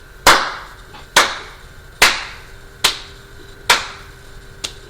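Five sharp hand claps ring out alone at a slow, slightly uneven pace, each one crisp and close with a short echo trailing after it.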